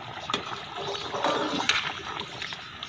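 Liquid in a pan of mutton curry bubbling and sizzling as the water cooks off, a steady close simmering hiss with small spattering pops throughout.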